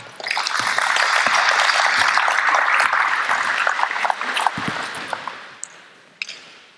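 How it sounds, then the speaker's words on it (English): A group of basketball players claps together in a dense burst of applause lasting several seconds, then it thins out into a few scattered claps at the end. "Give me a quick clap."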